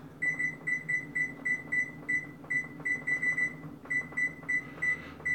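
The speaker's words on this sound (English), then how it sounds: "My smoke detector is already going off" A smoke detector's shrill electronic alarm beeps in rapid repeating bursts during cooking, fairly steady and insistent, over a low background hum.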